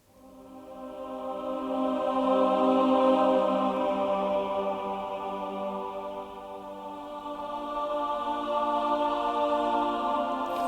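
A mixed orchestral choir doubled by a string ensemble swells in from nothing into a sustained, breathing chord that rises and dips in loudness, with no talking.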